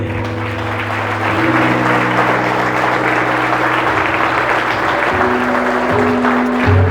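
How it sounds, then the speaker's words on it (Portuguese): A church congregation, standing in worship, breaks into sustained applause that fills the hall steadily for several seconds, with a low musical drone underneath. "Eu quero uma salva de palmas, o povo de Deus de pé"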